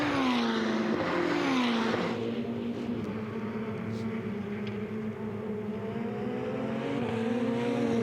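Ferrari Challenge race cars at Road Atlanta roar steadily past at close range, engines holding a sustained high drone with shifting pitch as the pack contests positions, loud and continuous with no talk.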